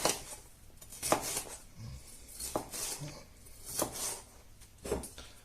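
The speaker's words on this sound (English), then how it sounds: "so what I'll do now is slice all this up. I'm going to do the peppers lengthways." A knife slices peppers lengthways on a cutting board, giving a few separate knocks and clicks spread out over several seconds, close and fairly quiet, with faint kitchen clatter and no talking.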